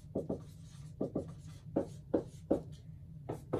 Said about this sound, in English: And I'll write that down.